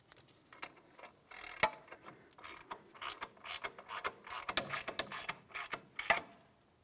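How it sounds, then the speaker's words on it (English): A ratchet tightening the upper control arm mounting nut on a 2007-2014 GMC Sierra 2500 HD, with rapid close clicking in uneven bursts and a few sharper snaps. "The mounting nut started on. Let's go ahead and bottom it out."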